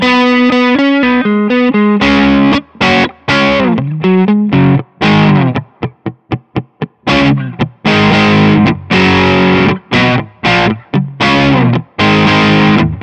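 Electric guitar with an LP through a Full OC overdrive profile on a Kemper profiling amp, playing distorted chords and single-note riffs with choppy rhythmic stops, loud and alone.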